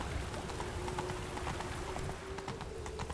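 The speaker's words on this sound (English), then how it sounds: "race your horse through here" Horse hooves clip-clopping in The Witcher 3, a steady rapid patter of hoofbeats buried in dense, loud game ambience with a steady hum, fairly distant and continuous.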